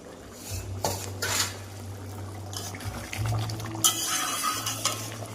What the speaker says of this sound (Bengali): ঢাকা দিয়ে পাত্রটা নামিয়ে নেব